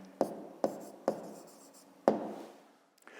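Pen or chalk strikes out a maths solution in four sharp taps, one-second-apart strokes with a pause before the last, close and quiet with no voice.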